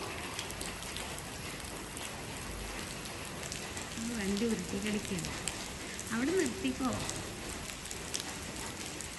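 Steady rain patters and hisses throughout, with a couple of short spoken phrases partway through.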